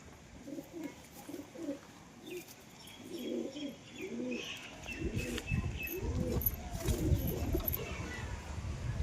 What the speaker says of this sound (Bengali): লালমুখী মাদি কবুতর এই কবুতরটাকে খুব শীঘ্রই উড়াবো